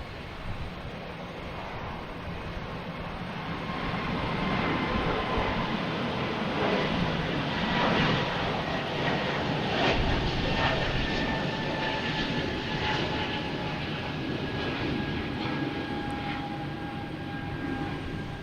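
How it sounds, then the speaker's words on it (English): A Delta Airbus A220 jet takes off from Boston Logan Airport heading for LaGuardia, giving a sustained broadband roar that builds and holds with faint whining tones sliding through it, no voices. "Next takeoff, we have an A220 Delta."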